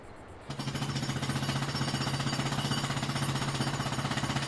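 Iron ore loading into a truck in Farming Simulator 22 makes a steady, rapid mechanical rattling that starts abruptly and continues evenly, fairly loud with no voices.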